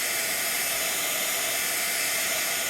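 A hair dryer blows steadily on the back of a mixed media art page sprayed with shimmer paint, a close, loud, continuous airy whoosh with no pauses.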